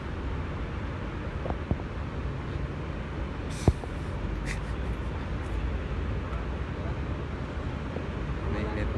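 Continuous strong wind roaring and buffeting over a low rumble in Hong Kong, steady throughout with a sharp knock partway through.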